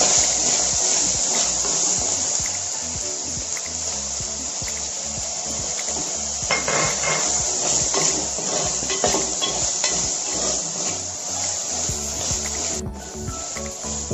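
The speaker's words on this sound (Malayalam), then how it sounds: "ഇപ്പൊ നമുക്ക് ഇഞ്ചി ഇട്ട് കൊടുക്കാം." Ginger frying in hot oil in a pan with dried red chillies for an Onam sadya puli inji curry: a close, steady sizzling hiss with crackling pops and occasional scraping of a spoon, no speech.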